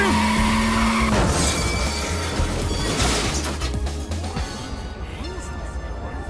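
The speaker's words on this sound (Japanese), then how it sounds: "後方走ってる車は突然歩道に乗り上げたんだ" A car in the Jinguji Saburo Prism of Eyes video game mounts the sidewalk in central Shinjuku, with a loud burst of skidding tires and crashing impact noise over game music and voices, then rumbling on without stopping.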